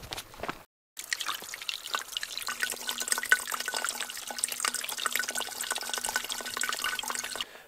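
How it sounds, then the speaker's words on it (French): Water trickles and drips steadily at a small mountain spring near a scree slope, a close, continuous splashy patter after a brief pause, with no voices. "on vient de trouver un coin d'eau."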